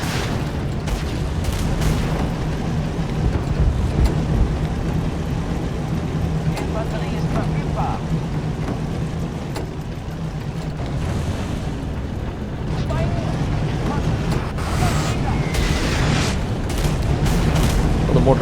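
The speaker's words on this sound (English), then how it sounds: "Loading the MG while we're waiting for impact from the mortars." Mortar impacts in the Tank Squad game, Tiger tank on the Eastern Front, deep booming rumbles rolling under a steady low engine drone, with a voice talking over it.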